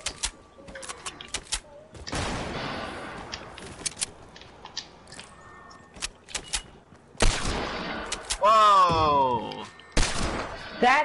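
Video game gunfire comes in sharp clustered bursts and single cracks between mechanical clicks, loud and close, with a player's voice heard talking at moments.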